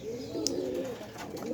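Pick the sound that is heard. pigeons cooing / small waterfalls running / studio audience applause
pigeons cooing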